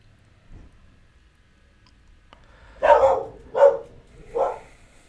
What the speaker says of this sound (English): Another dog behind me.